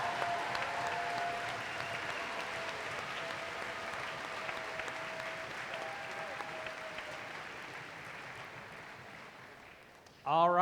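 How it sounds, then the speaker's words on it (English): A large crowd gives sustained applause in a hall at a 2016 FRC robotics district opening ceremony, steady and fairly loud throughout, fading slightly near the end before a voice comes in. "Let's give them all a big round of applause."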